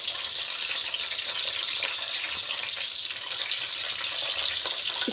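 Round eggplant slices frying in hot oil for borani baingan, a dense, continuous hiss and sizzle held steady throughout at close range.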